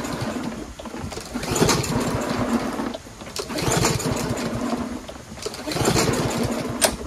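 A Troy-Bilt TB110 push lawnmower that won't start is pull-started repeatedly, giving three bursts of rapid rattling engine turnover separated by short pauses, nearby and moderately loud, without the engine catching.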